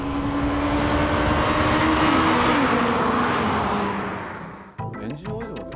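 A Honda Civic Type R accelerates hard through its gears, its engine note rising loud and close with a steady building roar before cutting off abruptly, followed by a brief burst of other sound.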